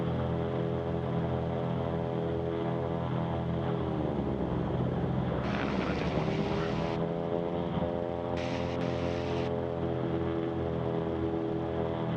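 Twin piston engines of a Cessna 310 run steadily during a magneto check, a loud droning hum whose pitch dips and recovers midway, with brief hissy bursts on top and no speech.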